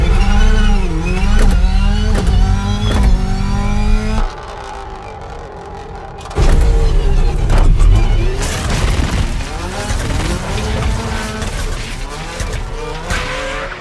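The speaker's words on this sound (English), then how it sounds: "The Rallycross car has the fastest acceleration off the line." A rallycross car launches hard off the line, its loud engine note climbing steeply through the gears, then cutting out briefly before roaring back in another surging run, with tire noise mixed in.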